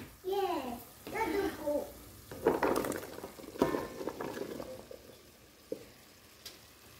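Pumpkin hitting hot ghee and spices in a pan, a soft sizzle and stirring scrapes under a woman's speech, with bright whistling child-like voice tones early on and intermittent clatter.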